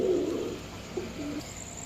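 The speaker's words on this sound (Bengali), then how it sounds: "এখন দেখাবো এক জোড়া সাপচিলা কবুতর" A pair of Sapchila pigeons at a pigeon seller's stall gives low coos, one longer coo followed by shorter ones, close and fairly clear over faint background hiss.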